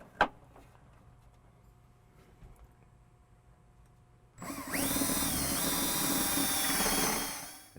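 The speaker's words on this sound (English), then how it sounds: "We'll drill a hole, we'll run our wire through" After a quiet stretch with a faint click, a power drill whirs loudly and steadily for about three seconds, its pitch dipping briefly as it bites into a truck's metal dash.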